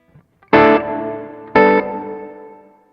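Two strummed electric guitar chords through an Alabs Cetus reverb pedal with its tone knob turned counterclockwise, each ringing out through a dark, warm reverb tail that fades slowly, with no talking.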